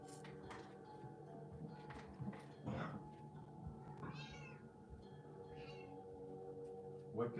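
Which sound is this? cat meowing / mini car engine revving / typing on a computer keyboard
cat meowing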